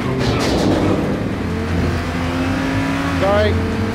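A car is driven in the video game Payday 2, its engine droning and revving steadily up close. Players talk over it the whole time, and a rising engine whine comes near the end.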